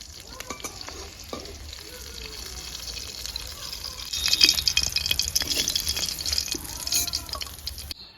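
Snakehead fish frying in hot oil alongside two green chillies, a steady close sizzle and crackle with scattered pops and spits that swell louder midway, with no talking.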